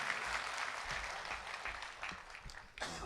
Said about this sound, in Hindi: अगर इनकी पैरोडी आपके दिल तक उतरी हो तो एक बार उतनी ही जोरदार तालियों से पार्थ को हम बताएं।